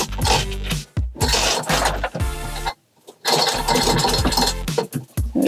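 A hoist lifting a Yanmar boat engine out of a vessel, giving loud, continuous mechanical grinding and rumbling in long bursts with a short quiet gap in the middle, close by.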